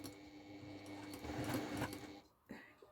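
A sewing machine runs a steady stitching burst along a patchwork seam during quilt piecing, its quick mechanical whir close and continuous before stopping abruptly, with a short clatter after.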